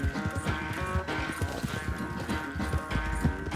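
Horse hooves in the video game Red Dead Redemption 2, a steady clip-clop of galloping footfalls repeating rapidly and close, over a continuous game soundtrack with no talk.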